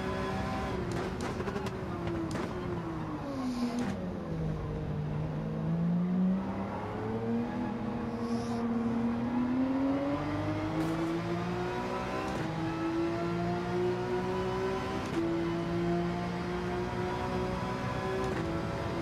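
Gr.3 race car engines in Gran Turismo 7 at Trial Mountain, a steady loud engine drone rising and falling in pitch through gear changes and acceleration, continuous over the whole stretch with no talk.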